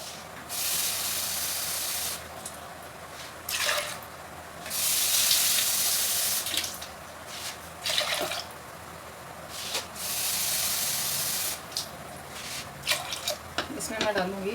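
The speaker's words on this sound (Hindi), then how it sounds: "अब इसमें पानी डालते हैं।" Water is poured into a pot of dal during home cooking, a splashing hiss in several bursts with quiet pauses between them, fairly close and alone.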